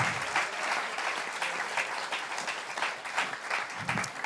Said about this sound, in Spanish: Por favor, denle su mejor aplauso.